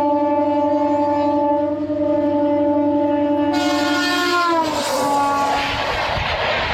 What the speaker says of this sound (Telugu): అదిగోండి పక్కన ట్రైన్ వస్తుంది చూసారా